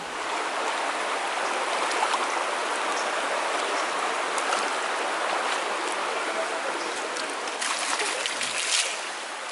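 Natural hot spring water at 130 degrees Fahrenheit flowing from the rock at the bath fountain in St. Thomas, Jamaica, a steady broad rushing splash, close and continuous throughout.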